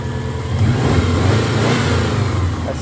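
A 1996 Subaru Impreza Series McRae flat-four engine revs up loud and close, a steady throaty drone swelling and holding before easing slightly, with no talk over it.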